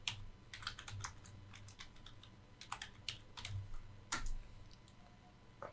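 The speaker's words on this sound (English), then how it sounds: "Let me write casting director." Computer keyboard being typed on in short irregular bursts of crisp clicks and key taps, quiet and close, with pauses between words and no voices.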